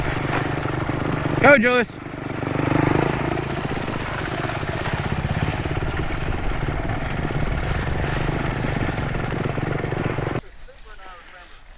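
A motorbike engine drones steadily as it climbs a steep hill, loud and continuous with wind rush, while a voice shouts briefly over it early on; the engine drops away abruptly near the end.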